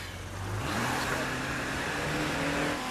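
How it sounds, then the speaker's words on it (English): A car driving off in the video game State of Decay 2, its engine revving up from a low idle into a steady, loud, sustained drone as it pulls away, close and with no talk over it. "Let's just get in the car and get out of here"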